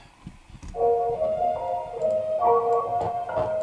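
A soft, sustained synth pad swells in and holds beneath a light ticking beat, steady and mellow with no voices.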